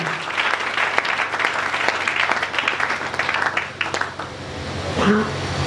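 Church congregation applauding in a loud, sustained burst of clapping with voices mixed in, tapering slightly near the end.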